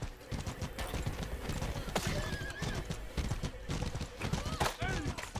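Horse hooves clip-clopping at a gallop in the medieval combat video game Mordhau, with whinnies and neighs, amid busy battle noise and someone talking over the action.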